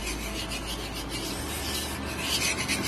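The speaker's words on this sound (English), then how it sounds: "Spread it properly with the help of spatula." A spatula scrapes and rubs across a non-stick pan, spreading omelette mixture for an Indian-style bread omelette, making a continuous close, dry rasping swish that gets slightly louder toward the end, with no one talking.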